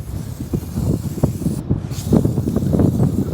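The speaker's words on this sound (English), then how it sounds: "Think about where the forks sit when you're spraying them." Bursts of hissing spray onto forklift attachment forks, several short blasts in an uneven rhythm against a noisy background, close to the listener.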